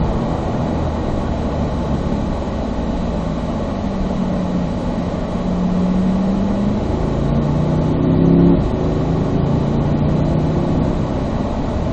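A Corvette Z06 on a race track drones steadily at moderate distance, its engine note rising in pitch midway as it accelerates out of a corner, with no talk over it.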